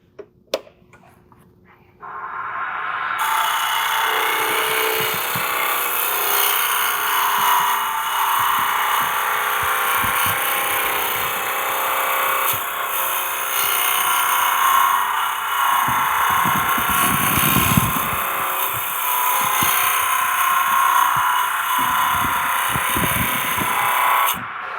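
Wood lathe spinning a workpiece while a gouge cuts into it, giving a steady bright hissing whir with a scraping texture that runs on continuously after a brief quiet start.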